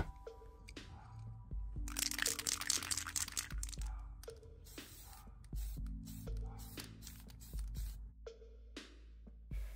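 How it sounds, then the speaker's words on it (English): Outdoors, a spray can of sealant coat hisses in bursts over a customized Monster High Frankie doll, with two long sprays separated by crinkly handling noises and clicks. "I'm gonna take you outside and I'm gonna spray her."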